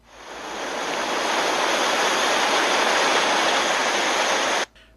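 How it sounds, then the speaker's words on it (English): Loud, steady rush of water pouring into a room in a sewer, a broad continuous roar that swells in over the first second, holds with no voices, then cuts off abruptly near the end. "the water starts rushing into the room"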